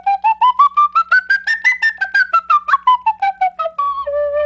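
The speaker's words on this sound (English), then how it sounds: "It's a type of penny whistle." A conical penny-whistle-type melody flute plays a clear melody of short tongued notes rising then falling, ending in a couple of held tones, loud and close with no voices.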